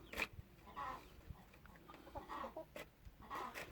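Purebred chickens cluck softly in short, scattered calls at a farm, faint and somewhat distant, with quiet gaps between them.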